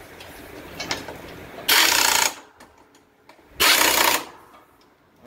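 An impact-style power tool runs in two loud bursts of about half a second each, fastening the nut on the flat pulley of a John Deere D140 riding mower during a ground drive belt replacement, with quiet workshop noise in between.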